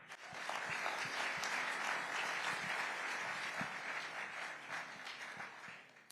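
An audience gives sustained, dense applause at a speaking event, loud and even throughout before tapering off at the end.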